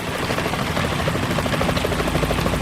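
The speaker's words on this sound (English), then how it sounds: "Is that a chopper I just heard?" A helicopter's steady, thudding rotor drone in a Metal Gear video game fills the whole stretch, loud and close, with a dense mechanical whir and no voices.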